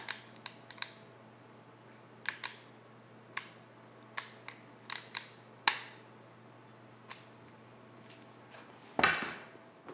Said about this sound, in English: I release the trigger, pull it again, still not going to go home